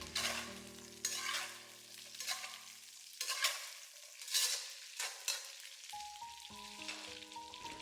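Pork ribs stir-fried with ginger slices, garlic and onion over high heat, close crackling sizzle with repeated spatula tosses, while a soft melodic tune enters toward the end.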